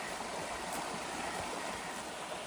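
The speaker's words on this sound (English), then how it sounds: "Water's so tranquil coming down the waterfalls." Water rushes down small waterfalls along an Appalachian Trail stream in a constant broadband roar, steady and fairly close, with no voices.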